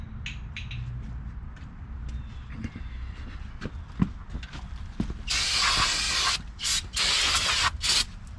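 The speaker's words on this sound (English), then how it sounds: "Going to get some brake cleaner to clean that up a little bit" Brake cleaner hisses from an aerosol can in bursts onto rear brake parts of a 2005 Cadillac STS, several loud sprays near the end after quieter clinks and handling noises in a garage.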